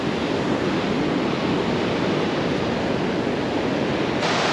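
Atlantic surf on a beach in southern Tenerife makes a continuous dense roar, waves washing in steadily and fairly close, with no voices over it.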